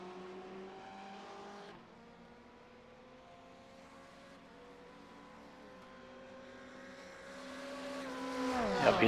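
Race car engines at Monza in a sim racing game, with a Corvette among the cars, drone at a fairly faint level, dropping in pitch under braking and then climbing as the cars accelerate and draft.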